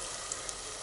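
Potatoes fry in a pan with a steady, even hiss and crackle, close and alone, over a very brief moment.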